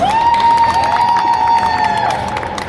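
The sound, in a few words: audience applause and cheering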